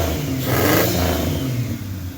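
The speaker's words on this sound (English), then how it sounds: "Sounds great. Turbo spinning right there." Turbocharged Xterra engine in a dune buggy revs loud and close, rising to a peak and holding with a steady mechanical roar and a faint high turbo whine, with no talking.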